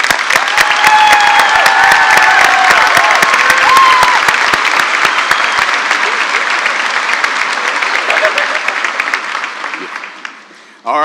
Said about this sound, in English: Will these 3 hardworking people stand up for a round of applause?